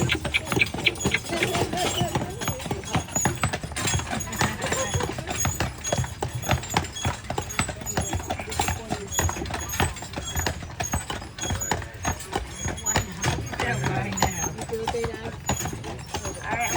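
Hooves of heavy Belgian and Percheron draft horses pulling a carriage on Mackinac Island clop steadily along the street, moderately near, under continuous talk and background chatter with a jingle of harness.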